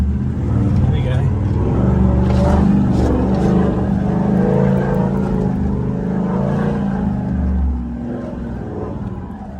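An old 79-series 4WD climbs a steep, scalloped hill on the Canning Stock Route in first gear at full throttle, a loud, close, continuous engine drone with a voice talking over it.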